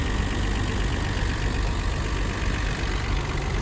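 A 1995 Bayside Blue Nissan Skyline R33 GTR engine runs loud and close with a dense, steady roar and no talk.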